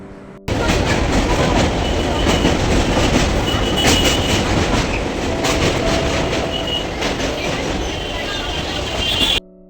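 A Dankuni–Sealdah local train running, a loud continuous rumble with rhythmic wheel clatter and occasional squeal heard from on board, steady throughout with no clear speech.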